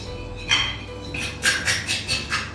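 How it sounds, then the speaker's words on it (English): Eggs being whisked in a bowl, a series of quick rhythmic scraping taps of the whisk against the bowl, clear and close, with no voices. "First of all, we'll whisk our eggs together."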